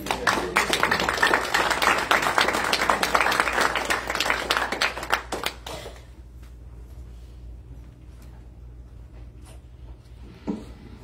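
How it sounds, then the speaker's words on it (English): Dense crowd applause at a family reunion for about six seconds, then fading into scattered claps and a quiet room. "one more round of applause"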